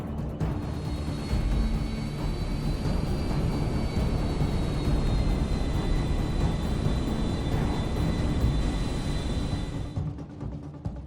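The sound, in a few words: heavy airplane taking off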